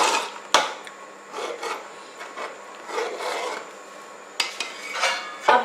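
A spoon scrapes and swirls through kheer in a metal pot, making soft rhythmic rasping strokes with occasional sharp clinks against the rim, close and alone.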